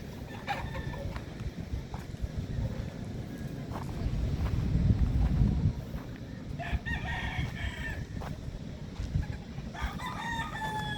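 Chickens at a backyard coop, with a rooster crowing in short repeated calls and hens clucking over a steady rustling background; the crows come in bursts near the middle and end.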